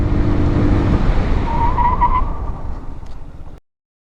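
A scooter brakes hard from 60 km/h on its front disc, tires skidding in a rough, close-up rumbling scrub with a brief squeal, fading as it slows and stopping abruptly into silence.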